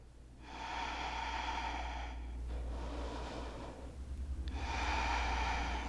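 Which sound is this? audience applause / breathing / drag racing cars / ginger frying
breathing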